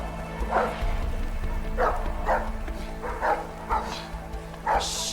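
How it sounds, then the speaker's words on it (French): A dog barks repeatedly in the video game A Way Out, with short, evenly spaced barks over a steady low game hum and background noise. "Oh le chien."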